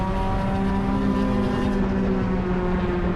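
Spec MX-5 race cars at Hallett circuit drive past in a loud, continuous engine drone with clear steady tones, a pack of cars going by one after another.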